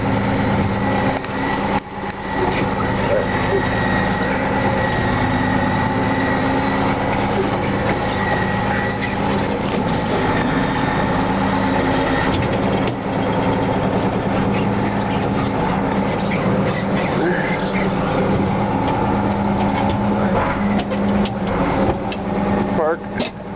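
A Case 2290 tractor's diesel engine running after a cold start, a loud steady idle with a constant throbbing hum and a few clatters, heard close with people talking over it throughout.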